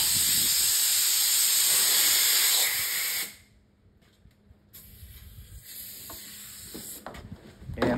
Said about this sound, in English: Switch to my other sander real quick.